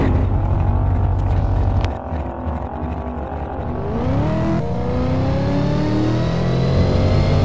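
A drag racing car in the Doorslammers 2 racing game, a no-prep Camaro on big tires, roars loudly and continuously through a run, its engine pitch climbing in steady sweeps as it shifts and accelerates, with no talking.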